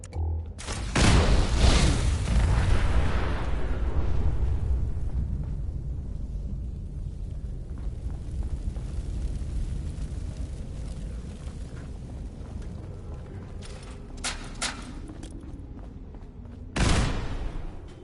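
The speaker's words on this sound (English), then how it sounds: "Who doesn't love a good explosion?" A big explosion in the video game Fallout 4: a loud booming blast that rolls on and slowly fades, with scattered crackles and a second sharp burst near the end.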